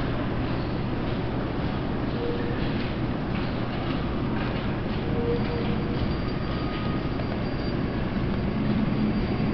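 A light rail train passes along Cedar Street in downtown St. Paul during snowfall, a steady broad rumble of wheels and cars that holds evenly throughout, with no voices.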